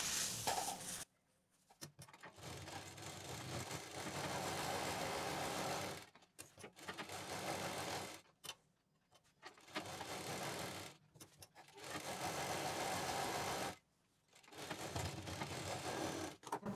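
Sewing machine stitching velvet fabric for a designer bag, close, steady whirring runs of several seconds each, broken by short silent pauses, with no talk.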